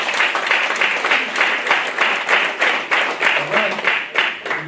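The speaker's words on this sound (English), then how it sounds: "Hey, give me a round of applause." An audience applauds at a forex bootcamp event, steady close clapping from a crowd filling the whole stretch, with voices mixed in underneath.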